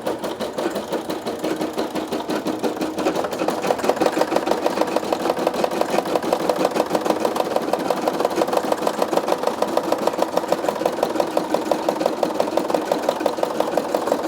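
A Brother SE 625 embroidery machine stitches a patch with a fast, steady, mechanical needle rhythm. It runs close and loud throughout with no talking.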